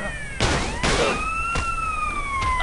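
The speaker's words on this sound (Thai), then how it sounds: "รถตำรวจมา" A police car siren in the GTA video game wails in long rising and falling sweeps, with sharp bursts of noise cutting in and no speech over it.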